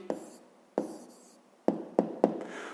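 A hand writes down an answer for a fifth-grade maths exercise, giving a handful of short scratchy strokes and taps close by, spaced unevenly with brief gaps between them.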